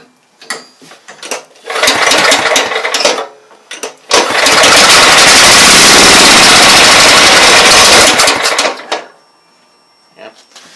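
A Bobcat 42-inch lawn mower engine cranks and sputters in short loud bursts, then catches and roars steadily for several seconds before stumbling, coughing and dying out, all close and loud.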